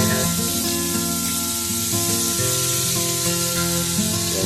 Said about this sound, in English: Get a nice sizzle on that.